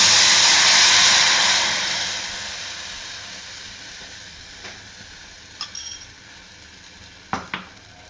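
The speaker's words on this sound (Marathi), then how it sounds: "आता हा चिंचेचा कोळ मी कढईमध्ये टाकून घेते फोडणी द्यायला." Tamarind pulp poured into a hot kadhai bursts into a loud hissing sizzle that gradually fades, followed by a few sharp metallic clinks of a utensil against the pan.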